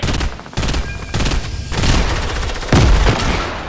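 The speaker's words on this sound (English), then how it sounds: "Somebody was shooting me from behind," Gunfire in Fortnite: rapid, loud bursts of in-game shots and a few heavier booms crowd together over a few seconds, close and dense, with no talk.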